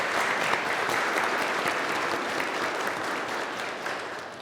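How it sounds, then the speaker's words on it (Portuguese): A church congregation at Mass claps to welcome visitors, a full, even burst of applause filling the space, steady throughout and easing slightly toward the close. "uma salva de palmas aos visitantes"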